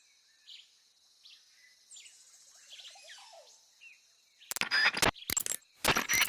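Several jungle bird calls and chirps trill in a quiet outdoor setting in Metal Gear Solid 3: Snake Eater, followed by a few louder bursts of chirping near the end.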